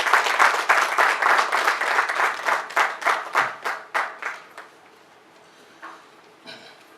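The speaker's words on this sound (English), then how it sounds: "A round of applause as we welcome." Audience at a mental health NGO launch applauding to welcome a speaker, dense clapping that thins into separate claps and fades out, with a few stray claps near the end.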